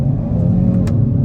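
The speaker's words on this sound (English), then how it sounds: "Let's try out an acceleration off the line." A 2024 Kia Forte GT2 launching off the line in first gear at about third throttle, its engine giving a loud, close, steady rumbling drone throughout the short burst.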